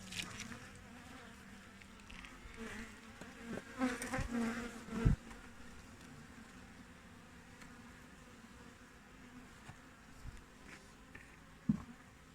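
Honeybees buzzing steadily at close range as a comb frame of bees is shaken into a colony, with a few louder passes near the listener around the middle and near the end.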